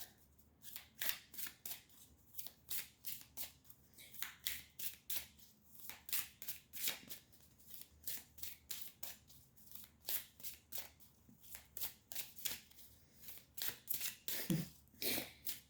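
A deck of cards is shuffled repeatedly in quick riffling bursts, each a short crisp rattle, close and fairly quiet with no talking.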